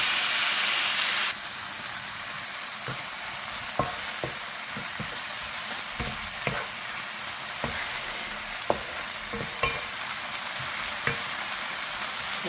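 Onion and tomato sauté in a little oil in a pan, giving a steady loud sizzle and hiss throughout, with occasional soft clicks of stirring close by and no talk.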